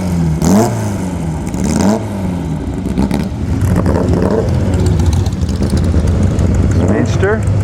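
A Porsche-powered Speedster at an outdoor Porsche classic car show revs loudly and close by in several sharp rising bursts over a steady idle, with crowd chatter around it.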